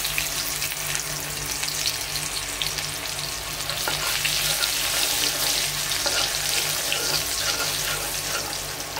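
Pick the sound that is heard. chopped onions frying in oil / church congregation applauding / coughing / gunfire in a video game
chopped onions frying in oil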